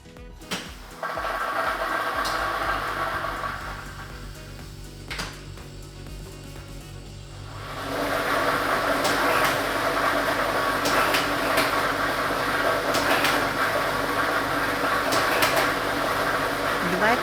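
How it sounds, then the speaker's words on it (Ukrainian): A lottery ball drawing machine in a televised state lottery draw switches on. A quieter hum gives way to a loud, steady rushing whoosh with scattered rattling clicks as the balls mix. "І ми вмикаємо лототрон."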